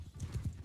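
Horse hooves thud in quick, rapid clip-clop beats as a faster horse gallops through a battle in the video game Mount & Blade 2 Bannerlord, close and steady, with faint background game noise.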